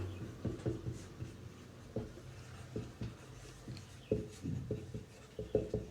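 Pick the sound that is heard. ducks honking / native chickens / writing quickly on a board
writing quickly on a board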